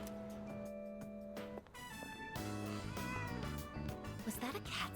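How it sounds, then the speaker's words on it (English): A cat meows in the video game Persona 3 Reload, a few short mews rising over layered game music and chiming tones, moderately loud and close. "Was that a cat's meow? Sounded like it."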